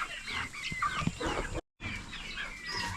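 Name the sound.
young chickens clucking in a hatch barn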